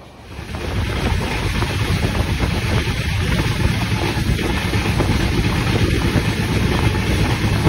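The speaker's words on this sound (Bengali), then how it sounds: "ট্রেন এখন একদম রাইট টাইমে চলছে আর ক্রস করছে খিরাই রেলওয়ে স্টেশন" The Howrah Barbil Jan Shatabdi Express runs through Khirai station with a loud, continuous rushing roar of wheels and wind that stays steady throughout, without voices.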